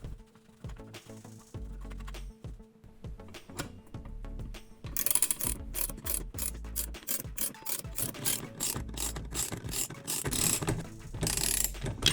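A Vespa 50 L engine's clutch bearings are pulled out with a tube and bolt, producing close, repeated ratcheting clicks and metallic grinding that grow louder and busier partway through, with no talking.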